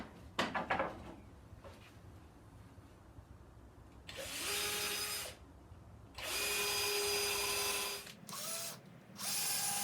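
A power drill with a countersinking bit bores screw holes in a wooden taper jig for a table saw, several loud steady bursts of whirring spaced by pauses, after some clattering handling noises at the start.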